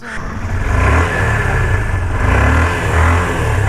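Motorcycle engine revved to warm it up on a hometown road in Mussoorie, India, a loud close throaty drone with rising and falling throttle swells, steady throughout and with no talking.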